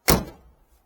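A single solid thunk from the door of a 1958 Ford Fairlane, one sharp close impact that rings out and fades within half a second, with no talk.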